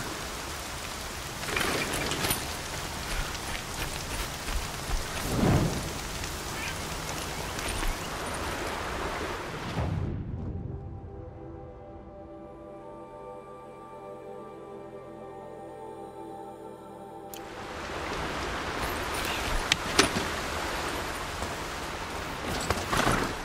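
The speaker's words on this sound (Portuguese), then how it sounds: "Já acabou a chuva." Rain hisses steadily in the video game Horizon Zero Dawn. Near the middle the downpour drops away to a quiet stretch of soft tonal sound, then the dense rain noise returns, with no talking.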